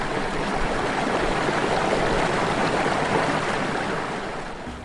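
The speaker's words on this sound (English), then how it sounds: "adding a sound effect of a river if you're filming a river" A river rushes in a steady, dense wash of flowing water that stays even and unbroken before easing slightly at the very end.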